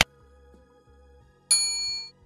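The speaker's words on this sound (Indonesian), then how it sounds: "jangan lupa tekan tombol loncengnya supaya kalian mendapatkan notifikasi" A bright notification bell dings once with a ringing metallic tone that fades, following a soft click and low tones, alone without any voice.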